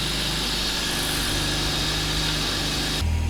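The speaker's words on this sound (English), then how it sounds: "Right now we are trying to let the engine warm up a little bit." A cold car engine idles with a steady rough rumble and faint high whine, running continuously and close by, then shifting tone near the end.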